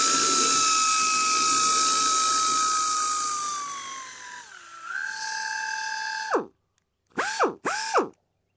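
A Sunex Surface Blaster air tool whines loudly at wide open throttle, pitch sagging as it slows, then catching again before cutting out and firing in two short bursts.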